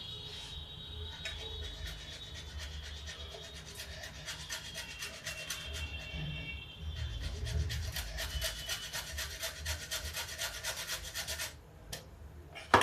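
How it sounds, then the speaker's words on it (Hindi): Boiled potato rubbed against a kitchen grater for Indian moong dal pakoras, a steady rapid rasping scrape that continues for several seconds, close and fairly quiet, with a brief pause near the end. "अब इसमें थोड़ा सा आलू का कद्दूकस करके डाल देते हैं"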